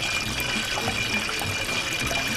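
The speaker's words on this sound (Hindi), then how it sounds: "थोड़ा थोड़ा करके पानी डाल देते हैं" Water poured into a mixture for a pineapple and cream dessert, a steady splashing, gurgling pour that runs continuously at close range with no talking.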